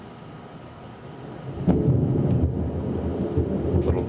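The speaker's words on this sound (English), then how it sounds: "little bit of a storm going on." Thunderstorm outside a workshop, with a deep rumble of thunder swelling after a quiet start and rolling on loudly over steady rain-like noise.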